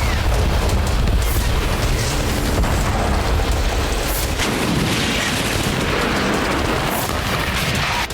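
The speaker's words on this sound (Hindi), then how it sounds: "एक के बाद एक कई स्टॉर्म शैडो मिसाइलें दागी गई, जिससे कई धमाके हुए" Explosions from a Storm Shadow missile strike on the base at Sevastopol, a sustained roar of deep booms and blasts with several sharper bursts standing out, loud and unbroken, no voices.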